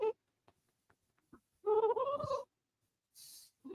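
A cat chirps indoors: several faint, brief chirps, then a louder trilling call of almost a second, with quiet gaps between the sounds and no talking.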